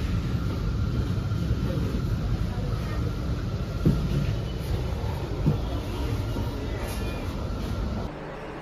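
A metro train pulls into Kadugodi station in Whitefield with a steady, enveloping rumble and rolling noise that holds throughout, then drops off sharply at the end.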